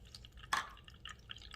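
Water added to a cornstarch batter for sweet and spicy chili wings lands in one brief, close splash, followed by a few faint drips and trickles in a quiet kitchen.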